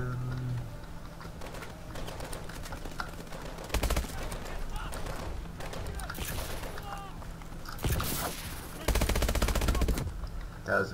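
Gunfire in the Call of Duty Advanced Warfare campaign, with several bursts of rapid shots standing out loudly over a busy game soundscape while a person talks throughout.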